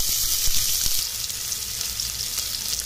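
Whole garam masala and onions fry in hot oil in a pressure cooker, giving a close, continuous hissing sizzle with a few faint stirring knocks early on.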